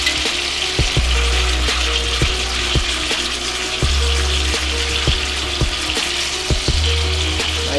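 Meat browns in a hot frying pan with a steady, loud sizzle and crackle, while scattered clinks and scrapes come from the meat being turned.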